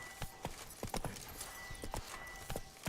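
Horse hooves clop in The Witcher 3 game, a quick irregular run of clear, close hoofbeats at a low level with no talk.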